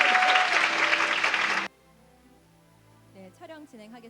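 Audience applause at an international peace art competition award ceremony, a dense burst of clapping that stops abruptly after about a second and a half, followed by quiet and then a voice speaking.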